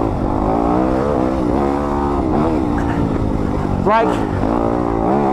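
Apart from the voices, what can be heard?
2020 Yamaha YZ250FX dirt bike engine while riding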